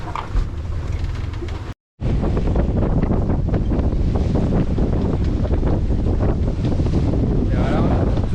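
Strong, steady wind roars across the microphone aboard a sailboat at sea in rough, rocking conditions, with rushing water and sea noise underneath; a brief cut interrupts it early on.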